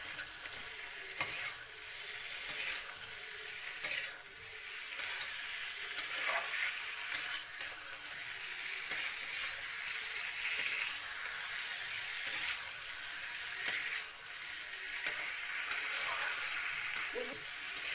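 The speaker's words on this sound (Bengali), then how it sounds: "তারপর মাছের মাথা দিয়ে দিলাম। ভালো করে কষানো হইব।" Fish head fries in a pan for muri ghonto, a steady, soft, close sizzle with scattered small pops and ticks of stirring running throughout, no talking.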